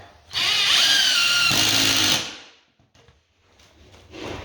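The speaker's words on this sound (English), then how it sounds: "I'm countersinking it completely so that when I put some flooring material on here, it's not going to rock." A power drill runs at high speed for nearly two seconds while countersinking a screw into a wooden floor patch, its pitch dropping as it bears down, followed by quiet handling noises.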